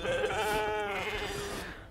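A single drawn-out, wavering sheep bleat from the For Honor video game, loud and close, fading toward the end with no talking over it.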